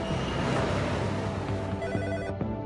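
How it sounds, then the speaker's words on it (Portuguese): A telephone rings on and on, its bell tones steady and fairly loud across a cluttered, dense background, with no voices. "O telefone toca."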